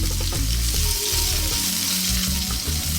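Onions sauté in a pan for pork lumpia filling, with a loud, continuous close-up sizzle and occasional stirring scrapes, no voices.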